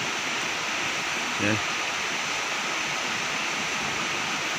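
A long river flowing beside a private subdivision near a damaged flood-control structure gives a steady, broad rushing wash throughout, with a brief spoken word over it.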